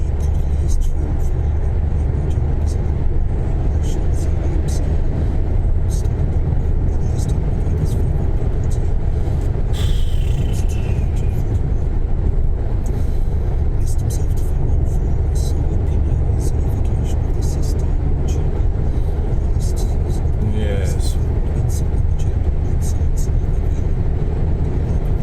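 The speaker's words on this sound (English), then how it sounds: "Car seems to be speeding up all the time" A car drives along a road near Dumfries, steady road and engine rumble from inside the cabin, continuous and loud, with occasional clicks and a voice speaking over it at times.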